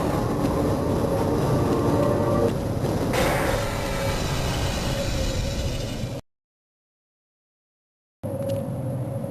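Steady low rumble and rattle of a tram car riding along its track in the Half-Life VR game's Black Mesa transit system, loud and continuous, cutting to silence for about two seconds before the rumble resumes.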